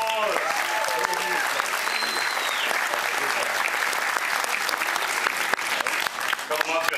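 Loud, sustained audience applause at a comedy show on a cruise, steady dense clapping throughout with some cheering voices mixed in.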